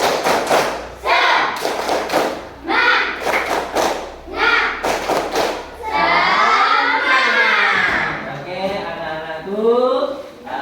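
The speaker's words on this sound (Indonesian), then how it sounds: "Ya, tepuk semangat." A school class performs a rhythmic clapping routine during a coding and AI lesson, with sharp patterned claps in short groups followed by children chanting together loudly in rhythm.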